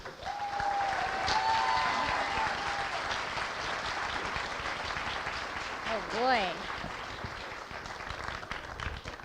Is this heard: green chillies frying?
no